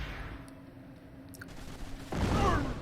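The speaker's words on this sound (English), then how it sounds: "Ooh, blunderbuss. Yeah, shotgun ability does 16 damage, I believe." A blunderbuss shotgun ability fires in the fantasy strategy game Age of Wonders 3, a sudden loud blast with a broad rumbling tail arriving after quieter clicks and small game effects.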